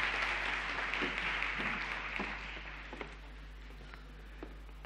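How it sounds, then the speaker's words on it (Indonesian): A church congregation applauds during a worship service, the clapping loud at first and then fading, with a low steady hum underneath. "Mari kita berikan tepuk tangan buat Tuhan kita."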